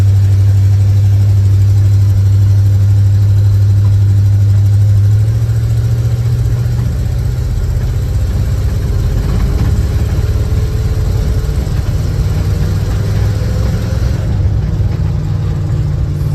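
A 1985 GMC C35 crew cab truck drives along with its engine droning loud and close inside the cab, a steady low rumble with slight shifts in pitch as it pulls.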